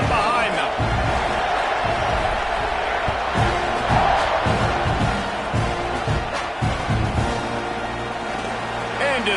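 A college football stadium crowd at a Texas A&M versus Nebraska game roars continuously at kickoff, a dense, loud wall of cheering that holds steady throughout, with an announcer's voice talking over it.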